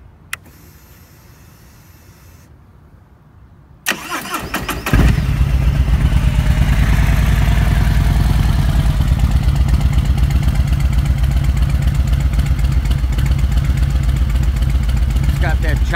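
A Harley-Davidson 2017 Street Glide with Bassani head pipes and SVT Boneshaker mufflers cranks, fires up loudly and settles into a deep, choppy loping idle that rumbles on steadily close to the microphone.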